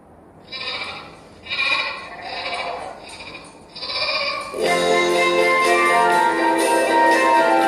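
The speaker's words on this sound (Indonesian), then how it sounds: "Ayo kita dengerin sama-sama gimana sih suara domba itu." Sheep bleat in a series of four or five separate calls close by, followed by a louder, sustained stretch of overlapping bleating.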